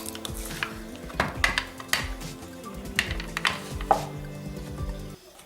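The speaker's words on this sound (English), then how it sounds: "I have 6 potatoes and I can mash it no time." Boiled potatoes being pressed with a hand masher for Polish potato dumplings, giving soft squelching pushes and light metal-on-pot knocks at an uneven rhythm, close and fairly quiet.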